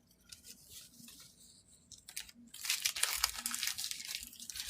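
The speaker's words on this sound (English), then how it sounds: "I'm just scoring it and I'm using my scissors." Scissors lightly score paper laid over fabric in a sewing project, giving faint, soft scratching and crinkling strokes that grow busier and slightly louder partway through, close and quiet with no talking.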